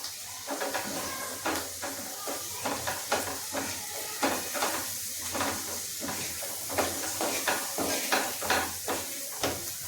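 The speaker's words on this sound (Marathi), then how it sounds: "आता इथे आपण वाटलेलं वाटण टाकायचं. ते छानपैकी मिक्स करून घ्यायचं." Ground masala paste being stirred into a vegetable bhaji in a pan, with repeated scraping and stirring strokes over a steady background sizzle, close and moderately loud.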